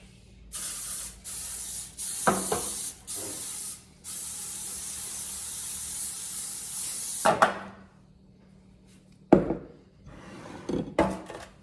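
Several bursts of cooking spray hiss close by, some short and one long sustained spray, separated by clunks and knocks of a pan being handled.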